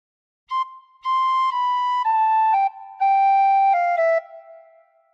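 A tin whistle plays a phrase of Joy to the World alone, a clear melodic line of several steady notes that step mostly downward with short gaps between them.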